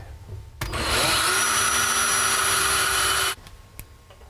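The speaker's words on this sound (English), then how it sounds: "drill just a couple of pilot holes through this backer board into that stud" A power drill whirs steadily at high speed for about three seconds, drilling pilot holes through backer board into a wall stud, close and loud, then stops abruptly, followed by a couple of faint knocks.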